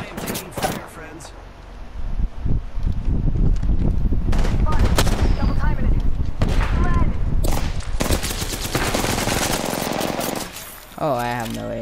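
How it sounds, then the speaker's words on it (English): Gunfire in the shooter game Apex Legends during an energy-weapon-only match, loud rapid bursts and a sustained volley of shots, close and dense, with scattered voices and a sharp sound near the end. "I am taking fire, friends."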